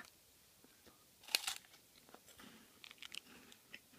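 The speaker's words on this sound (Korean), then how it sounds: "초콜릿 맛을 먹어보도록 하겠습니다" Chocolate-flavoured Umaibong, a Japanese corn puff snack, bitten with a sharp crunch followed by several soft chewing crunches at close range, no talk.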